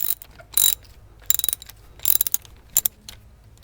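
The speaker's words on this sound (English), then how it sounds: "Here we got the second bolt coming off, the last one." A hand ratchet clicks in several quick bursts, loosening a starter bolt on a Ford F150, the rapid pawl clicks close and crisp with short pauses between strokes.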